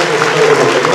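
A gala audience claps in a dense, continuous burst of applause at an evening cultural event, loud and close.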